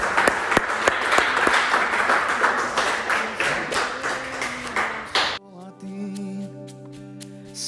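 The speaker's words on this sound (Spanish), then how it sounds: "Dale ese aplauso al Señor." Church congregation applause during a worship service, dense clapping filling the first five seconds before breaking off into quiet sustained music tones.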